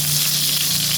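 Garlic sautéing in a pan for chicken chopsuey gives off a loud, continuous sizzle, close and unbroken, with no voices over it.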